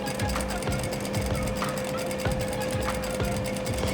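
A sewing machine runs steadily while rolling a baby hem on silk charmeuse with a roller foot, a constant mechanical whir with a fine rapid stitching clatter, close and unbroken.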